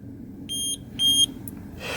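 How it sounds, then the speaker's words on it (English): An open-source lap timer signals a race session start with two electronic beeps in quick succession, the second slightly longer, followed by a short higher chirp, clear against a quiet background. "It'll beep 2 beeps so that you can synchronize with any DVR"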